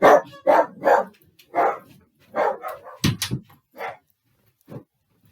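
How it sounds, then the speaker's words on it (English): Several dogs bark in quick, loud bursts close by, pausing briefly between volleys, with a last single bark trailing off. "Sorry about my dogs."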